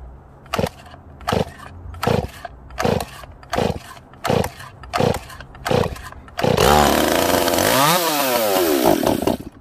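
A ported Stihl 026 chainsaw with a freshly rebuilt carburetor and custom dual port, pulled over about eight times in short rhythmic bursts before it fires and settles into a loud, steady running roar with revving.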